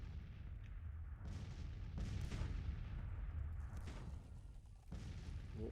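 Artillery and musket fire from a Civil War strategy battle in Grand Tactician, distant booms and crackling volleys overlapping in a continuous low rumble, fairly faint.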